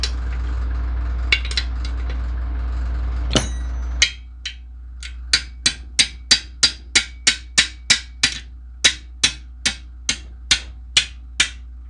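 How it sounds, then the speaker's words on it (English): An adjustable wrench used as a hammer strikes metal in a steady series of about twenty sharp, ringing blows, close by and loud, after a stretch of background hum and a few clinks, during a 1998 Polaris Xpress 300 two-stroke engine repair. "He's using the adjustable as a hammer."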